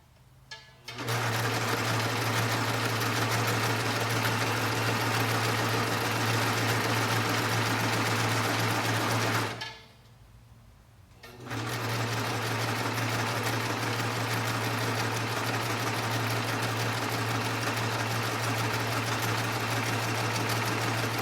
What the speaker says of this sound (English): I'm going to press my pressure foot down and I'm going to start to sew